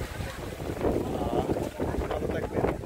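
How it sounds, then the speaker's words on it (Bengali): Strong storm wind beside the Buriganga river near Sadarghat buffets the microphone in a continuous, gusting roar, with someone talking under it. "ঝড়, অনেক বাতাস।"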